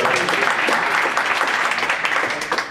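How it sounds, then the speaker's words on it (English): A tech conference audience breaks into loud, dense applause during a live software demo, a close, continuous burst of clapping that tapers slightly at the end. "Yes, clap!"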